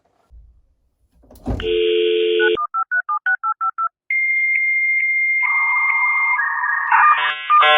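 Telephone tones come from an old rotary payphone connected by a phone line: a steady tone, then a quick run of short dialing beeps, followed by longer sustained line tones and a ringback. The sounds are loud and close, with no talking.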